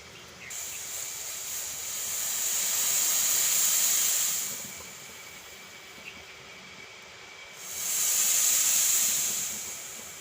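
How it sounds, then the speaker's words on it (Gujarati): Milk and water boiling in a pot, a soft steady hiss that swells loudly, fades, then swells again, with no voices. "આપણે દૂધ ને પાણી બે ઉકળી ગયું છે એકદમ સરસ"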